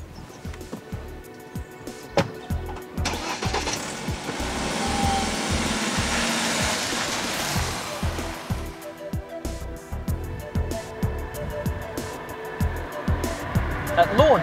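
A BMW 3 Series Touring engine hums and revs while driving, with road and wind noise swelling and fading over a steady drone, plus intermittent clicks and a voice.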